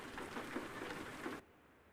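Rain pattering in the American Truck Simulator game, a soft continuous hiss of drops on surfaces that cuts off abruptly partway through, leaving near silence.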